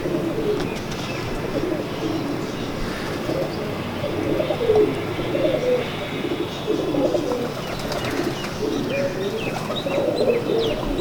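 Pigeons of the JF-17 breed cooing steadily on a rooftop, a continuous layer of soft, overlapping coos with occasional chirps, heard close and at moderate volume with faint background voices.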